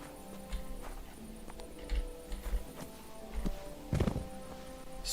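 A horse's hooves clip-clop at a slow walking pace, with snorts and shuffling, fairly close amid quiet ambience in the game Kingdom Come: Deliverance II.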